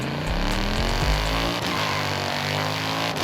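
A 6.2 litre car engine in Forza Horizon 5 drones with a deep, brutal rumble, pulsing low and steady before easing into a smoother hum, alone and close.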